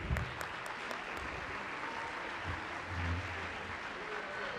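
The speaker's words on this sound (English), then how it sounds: "a round of applause for them." A middle school concert audience applauds the 8th graders, a steady, moderately quiet patter of many hands clapping with crowd murmur underneath.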